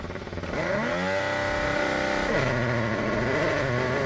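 A Red Bull Formula 1 car at a pit stop, its engine note shifting in pitch, dipping and climbing again, loud and close with no talking.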